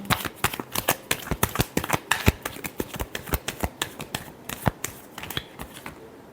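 Tarot cards shuffled by hand, close and crisp, a rapid run of sharp riffling snaps and flicks in an uneven rhythm, with no voices over them.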